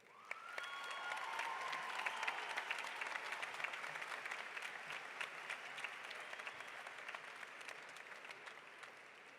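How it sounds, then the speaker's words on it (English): Steady applause from a crowd at a high school graduation ceremony, sustained and even throughout, with no voices standing out. "Please give a round of applause to these very special people."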